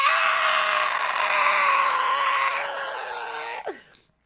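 A voice imitates a horrific Ringwraith scream, a loud, sustained, shrill wail that holds for several seconds, then cracks and trails off abruptly.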